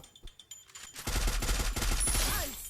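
A FAMAS rifle in the game Free Fire: a few sparse clicks and single shots give way to a loud, sustained burst of rapid automatic fire that fades slightly at the end.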